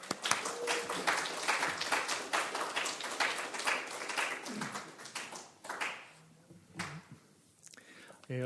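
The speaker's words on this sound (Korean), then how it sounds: "하나님께 먼저 우리 이 시간에 박수로 영광 돌리겠습니다." Church congregation applauding during a worship service, a broad wash of many hands clapping that swells then thins out, with murmured voices and scattered claps toward the end.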